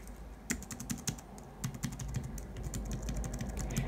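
Soft, quick typing on the quiet Perkins-style Braille keyboard of a BrailleSense Polaris Mini, light clicks in an uneven rhythm, close by with no talking.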